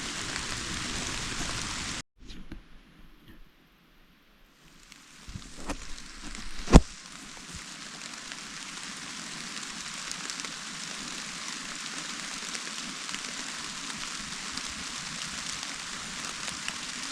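Steady rain falls on trees in the woods, a dense even hiss that runs for most of the stretch, with a short quiet break near the start and one sharp knock partway through.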